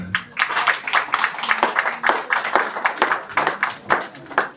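An audience applauding at an intimate dinner celebrating a group's 13th anniversary, a steady wash of many hands clapping for several seconds, fairly loud and close, with a voice briefly heard at the start.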